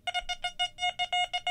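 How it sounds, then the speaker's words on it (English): An XP Deus II metal detector beeps during an air test over a wedding ring, a close, loud series of about eleven rapid, evenly spaced tonal pulses with no talking. "We'll listen to a beep."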